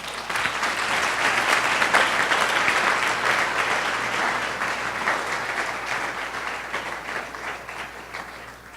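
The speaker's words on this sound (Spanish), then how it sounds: "¿cuántos le pueden dar un aplauso a nuestro Dios?" A church congregation applauds God during a worship service, dense sustained clapping from many hands that swells early and then slowly tapers off over several seconds.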